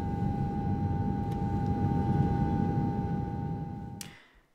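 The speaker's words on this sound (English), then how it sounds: "As the first flight takes off," An airplane taking off from an airport makes a steady, distant rumbling roar with a faint tonal whine over it. The sound holds for about four seconds and then cuts off abruptly.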